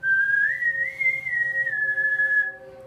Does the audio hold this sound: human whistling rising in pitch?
yes